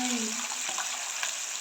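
Chicken pieces frying in hot oil for fried chicken, a steady close sizzle that fills the whole moment, with brief soft clinks of handling over it.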